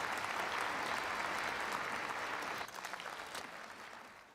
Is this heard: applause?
yes